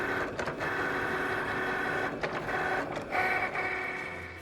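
A Cricut cutting machine runs in a craft room with a steady close mechanical whir and hum, interrupted by short motor shifts as the carriage moves.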